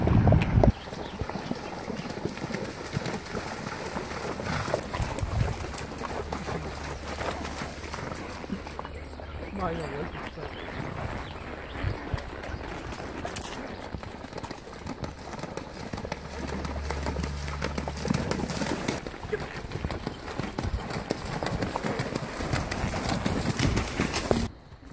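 Rhythmic clip-clop of horses' hooves on a trail ride runs steadily throughout, with birds cooing and chirping nearby and voices talking in the background.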